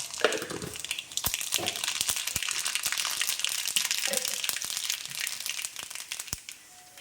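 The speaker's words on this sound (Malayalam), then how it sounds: "ചീനിച്ചട്ടിയിൽ വെളിച്ചെണ്ണയൊക്കെ ഒഴിച്ച് ചൂടായിട്ട് അതിലേക്ക് 1 സ്പൂൺ കടുക് ഇട്ട് കൊടുക്കാം" A spoonful of mustard seeds sizzles in hot coconut oil in a pan, making a steady, dense crackling with sharp pops scattered throughout.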